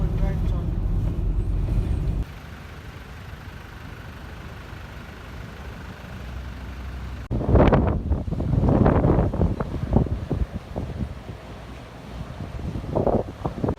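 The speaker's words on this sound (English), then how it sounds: "that's a strong wind" Strong wind blusters and roars against the microphone near a ferry crossing, steady at first, then gusting in heavy, buffeting bursts over a low background rumble.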